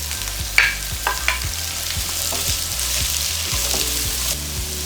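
Chopped onions, four large ones, sizzle and fry in a pan for a pepper chicken curry, with a steady hiss broken by repeated scraping stirs of a spoon against the pan, close and fairly loud.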